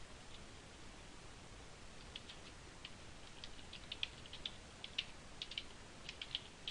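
Light keyboard keystrokes tick in quick irregular bursts while text is typed on a computer keyboard, faint and close over a steady background hiss, with no talking.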